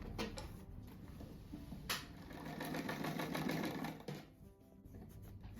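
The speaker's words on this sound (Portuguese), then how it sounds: "eu costuro uma barra de aqui e uma ali, para depois costurar lá na almofada" Sewing machine stitching a fabric hem for an envelope-style pillow cover, a faint, steady rapid mechanical whir that runs for several seconds and slows briefly near the end.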